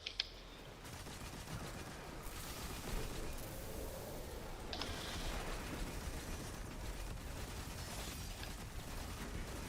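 The Thunderlord machine gun from the video game Destiny fires in a sustained, dense roar of rapid automatic bursts, steady and loud for nearly ten seconds with no talk.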